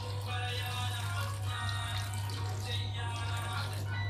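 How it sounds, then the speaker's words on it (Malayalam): Water being poured into a pan of chicken biryani in progress, a continuous close splashing rush of liquid over a steady low hum, with no talking. "നമ്മൾ ഇതിലേക്ക് കുറച്ച് വെള്ളം ഒഴിച്ച് കൊടുക്കുകയാണ് കേട്ടോ"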